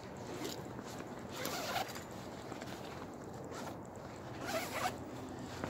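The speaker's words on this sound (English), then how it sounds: "just unzip the whole thing" A long zipper being pulled around the clamshell opening of a 75 litre Mardingtop backpack, rasping continuously and close for several seconds with brief louder surges as the pull rounds corners.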